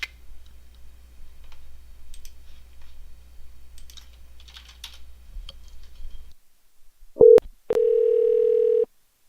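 A telephone dial tone follows soft keyboard taps and clicks, then a short beep and a steady held tone near the end while a number is called.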